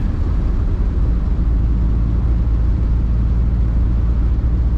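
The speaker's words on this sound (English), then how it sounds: "Typical Cadillac drive, it is absorbing the road imperfections very well." A 1964 Cadillac DeVille convertible cruises along the road with a loud, steady low rumble of engine and tire noise plus faint wind around the top, constant throughout with no talking.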